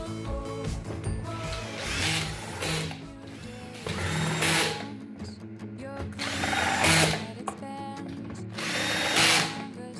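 A cordless drill set to screwdriver mode on a low setting whirs in repeated short bursts as screws are driven back into a Folletto VK 150 vacuum, close-up with pauses between each screw.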